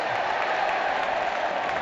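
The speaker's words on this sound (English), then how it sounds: "I'm not sure what's brought the applause over in the distance." Faint, distant applause drifts from the crowd at a Twenty20 cricket match between England and South Africa in Cardiff: a soft, even wash of clapping heard far off, with no nearby voices.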